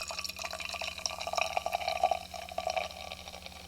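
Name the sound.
pouring Untitled Art Rice IPA beer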